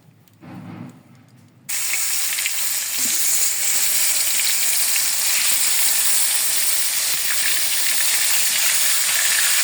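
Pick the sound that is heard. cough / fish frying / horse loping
fish frying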